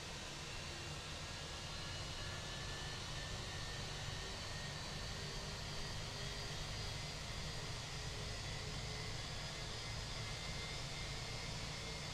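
A320 jet engine running in the Fenix A320 flight simulator, a steady broadband roar with faint whine tones, even and continuous at moderate level with no voices.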